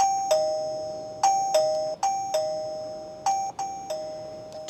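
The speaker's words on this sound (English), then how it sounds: "So let's see what the chime does." An XTU J10 doorbell camera chime rings out clearly in a quiet room, repeating a two-note electronic ding-dong several times in quick succession, each strike decaying before the next.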